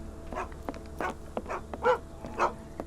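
Dogs in the video game Sherlock Holmes: The Awakened give a string of short, muffled barks and yips, about five or six in quick succession, over a low steady game ambience with a faint buzzing drone.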